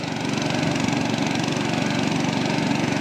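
A tractor-driven blower sprayer in a pomegranate orchard in Satara, Maharashtra, drones with a steady, loud engine and fan roar that stays even and unbroken.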